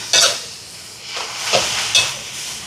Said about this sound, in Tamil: இதோட உப்பு சேர்க்குறேன் இப்போ இதை கலந்து விடுவான்